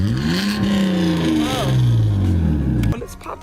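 A BMW E34 wagon with a muffler delete starts up and revs, its raw, loud exhaust rising and falling in pitch close by before settling back after about three seconds.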